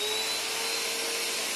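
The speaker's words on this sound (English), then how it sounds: "Now, let's vacuum and see what happens." A Bissell PowerLifter bagged pet vacuum cleaner runs loud and close, a constant whining motor roar with a high steady tone and no talking.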